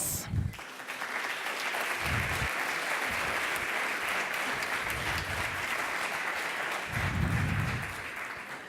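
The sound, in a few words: audience applause for pitch team at hackathon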